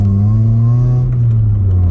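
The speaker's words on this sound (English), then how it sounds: "This car is so loud. He's redlining it so hard, but we're not moving anywhere." A 2004 Honda Civic EP2 with a 1.6 engine, held loud and near at redline while stationary, a droning high-rev tone that sags slightly toward the end, with no voices over it.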